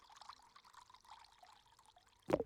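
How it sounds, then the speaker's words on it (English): Water poured into an RV radiator in a video game makes a faint, soft trickle that ends in a short, louder splash. "Might as well fill up our radiator while we're here."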